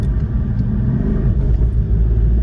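Porsche 718 Cayman GT4 engine pulling hard through a gear change into fourth, a steady loud low rumble from inside the cabin with no break in the drone.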